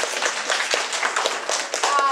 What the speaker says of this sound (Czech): Takže posíláme, tleskáme.